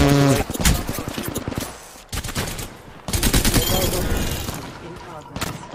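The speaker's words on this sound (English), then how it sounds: "Getting shot at." Rapid automatic gunfire rattles in a close, loud firefight in the video game Apex Legends. Dense bursts break off briefly and then resume, with voices talking over the shooting.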